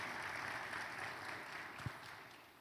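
Steady applause from a church congregation, a soft continuous patter of many hands clapping, fairly distant and even throughout.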